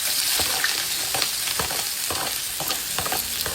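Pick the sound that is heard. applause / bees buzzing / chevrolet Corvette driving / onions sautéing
onions sautéing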